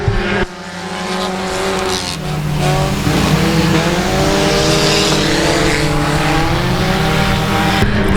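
Race cars roar around the Ark-La-Tex Speedway in a close three-car battle late in the race, loud sustained engine drone with rising and falling pitch as they pass, tire noise layered under the engines, no voices.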